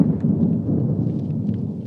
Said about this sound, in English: You can hear that thunder serious.